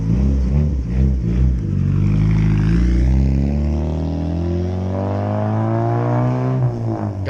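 A car with a B20 turbo engine drives by with a loud, deep exhaust drone that rises and shifts in pitch as it accelerates, close and continuous with no talking.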